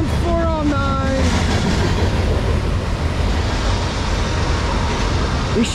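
CSX freight train M409, led by locomotive 3081, rumbles past close by with a steady, heavy roar and wheel clatter, after a brief whistle-like tone at the start.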